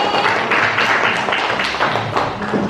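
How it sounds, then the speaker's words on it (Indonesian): Classroom applause for a student, a short burst of scattered hand claps from a group of pupils, fairly close and busy throughout. "tepuk tangan buat teman kita ini"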